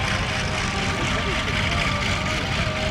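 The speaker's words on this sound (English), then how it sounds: "you'll find Tom Richards in the Wildcat" A Grumman Wildcat propeller fighter flies past at the Geneseo, NY airshow, its engine droning steadily with a broad, continuous roar at moderate distance and no clear rise or fall.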